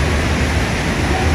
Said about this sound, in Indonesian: Di sini lagi hujan.